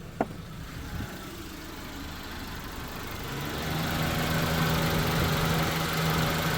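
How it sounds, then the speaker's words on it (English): A Proton Saga 1.5 engine with a surging idle running, then swelling louder and steadier as it revs up, with a low droning tone emerging. "Oh, doing revving stuff now."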